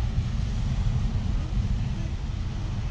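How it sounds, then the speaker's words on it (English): A deep, continuous rumbling roar with a steady hiss of steam venting from a geyser at Yellowstone, loud and unbroken, with wind buffeting the microphone. "It's making like a rumble thunder noise."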